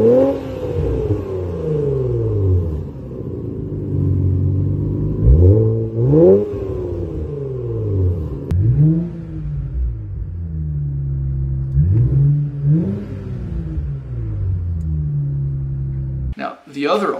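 An Infiniti Q50/Q60 with the 3.0T VR30 twin-turbo V6 and an SCS custom catback exhaust revs repeatedly from idle, its deep rumbling rises and falls loudly and close up.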